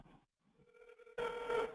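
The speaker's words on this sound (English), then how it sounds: "And so I have a call that's ringing in." A desk phone rings with an incoming forwarded call: a short electronic ring tone cuts in, pauses, then a louder, denser burst of ringing follows, heard close and alone.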